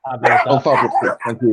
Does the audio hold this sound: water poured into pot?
no